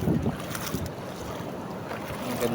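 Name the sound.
sea waves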